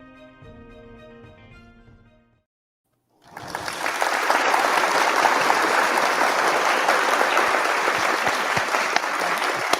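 Sustained applause from a crowd, dense and fairly loud, starting abruptly after a few seconds of music and a brief silence, then holding steady to the end.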